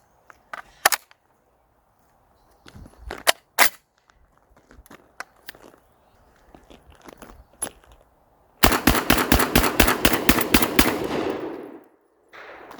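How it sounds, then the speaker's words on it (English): A Panzer Arms BP12 12-gauge semi-automatic bullpup shotgun dumping a 10-round magazine: a few scattered single shots and clicks, then about ten loud, rapid, evenly spaced blasts closing with a fading ring. "let's give it the 10-round mag dump."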